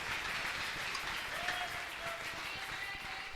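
A church congregation at a French-language worship service, heard as steady, dense applause and clapping mixed with crowd noise, continuous and fairly loud throughout.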